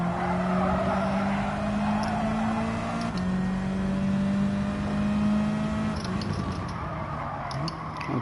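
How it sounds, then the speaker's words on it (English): Turbocharged race car engine from the Gran Turismo 7 video game, a loud sustained drone that climbs steadily in pitch, drops at a gear change and climbs again, then backs off near the end with faint tire noise. "Oh dear, turbo kicking in."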